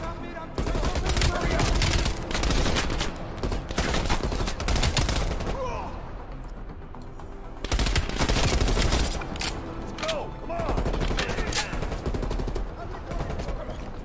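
Sustained automatic gunfire in the video game Call of Duty Black Ops Cold War, loud and near, in long dense bursts with a brief lull midway, mixed with explosions and battle noise.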